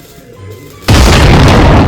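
Diwali firecrackers bursting at night: a sudden loud boom about halfway through, followed by a dense, sustained crackling roar of explosions that continues to the end.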